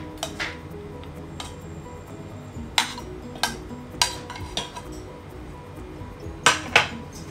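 Pieces of tuna (kera choora) being put into a cooking pot for fish cutlets, heard as a series of sharp metallic clinks and scrapes of a utensil against the pot, spaced irregularly and fairly close.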